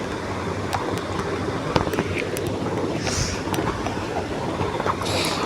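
Potato, vegetable stalks and radish fry in hot oil for a vegetarian Bengali chorchori, giving a dense, steady sizzle and crackle with scattered sharp pops throughout.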